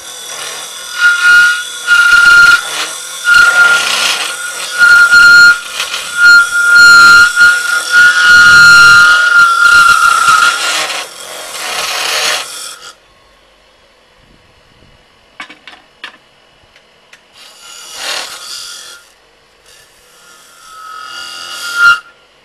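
A curved scraper cuts the inside of a segmented wooden bowl on a lathe, giving a loud steady scraping hiss for about twelve seconds, then stops, with a few brief rubbing touches and a short burst of cutting later.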